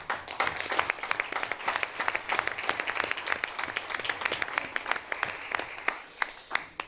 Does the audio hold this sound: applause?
yes